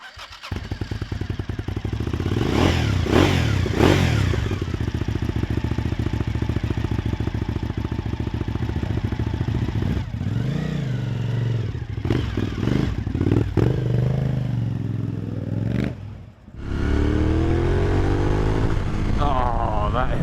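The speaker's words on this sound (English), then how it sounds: "Engine note is glorious." A Suzuki TL1000S sport motorcycle engine runs steadily and revs up and down, with brief dips and a drop in throttle before picking up again.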